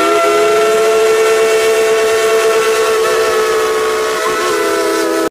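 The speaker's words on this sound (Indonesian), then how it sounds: "Wah, lihat yang ini kereta api lokomotif." A steady, shrill steam-style whistle from a toy locomotive sounds continuously, with a faint hiss beneath, close and loud, dipping briefly near the end.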